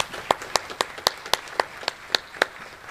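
Applause at a U.S. Army Contracting Corps change of command ceremony comes as about ten crisp, evenly spaced claps in a steady rhythm, sounding sparse and close, like only a few hands clapping.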